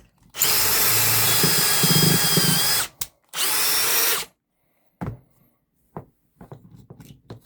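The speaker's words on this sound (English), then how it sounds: "I've just got a pocket hole thing here to drill quick." A Bosch 18V Flexiclick cordless drill whirs loudly in two sustained bursts while drilling pocket holes in wood, the second shorter, followed by a few brief knocks and clatters of handling.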